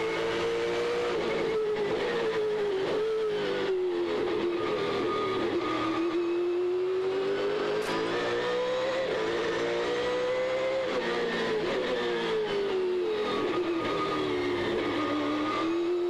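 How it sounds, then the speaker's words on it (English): Trans Am race car engine heard onboard during a race at Long Beach, a loud continuous high-revving howl that climbs and drops through gear changes and corners, with no talk. "Let's ride with Scott Pruett, our race leader, and enjoy the natural sound"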